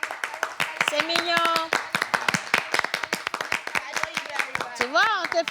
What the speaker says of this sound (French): on t'applaudit